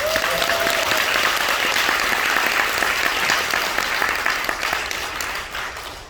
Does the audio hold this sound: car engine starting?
no